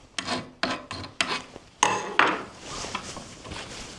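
A hand file rasps burrs off a cut metal eye bolt in a few short, close strokes, each a sharp scrape with brief pauses between.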